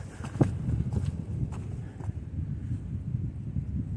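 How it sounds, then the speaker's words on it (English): Wind gusts buffet the microphone on the Appalachian Trail near Chestnut Knob, a low rumbling whoosh in uneven surges, with a few soft thumps of footsteps or handling on top. "Of course, there's a little wind as soon as I say that."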